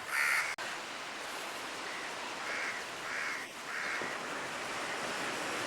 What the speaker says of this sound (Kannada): ತಣ್ಣೀರುಬಾವಿ ಕಡಲ ತೀರ ಚೆನ್ನಾಗಿದೆ ಕಣ್ರಿ